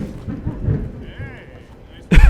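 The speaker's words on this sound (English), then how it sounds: "Holy cow, this is a close thunderstorm" A close thunder strike from a thunderstorm in the LEGO Incredibles game: after a low rumbling stretch under a voice, a sudden loud crack and boom bursts in near the end.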